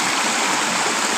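A small river spills over stones in a little waterfall in Shillong, a dense, continuous rushing wash heard close and steady, with no voices.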